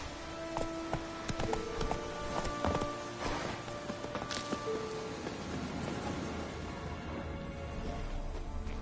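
Geralt's horse Roach running in The Witcher 3, with hoof clip-clops thudding in a fast, irregular rhythm over a busy game soundscape at steady moderate loudness.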